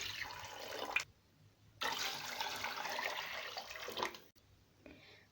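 Water poured into a pot for chicken soup, a rushing splash in two long pours separated by a brief pause, close and alone.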